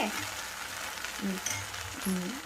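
Cabbage manchurian sizzling and frying in a pan, a steady close hiss with a few soft stirring scrapes and no talking.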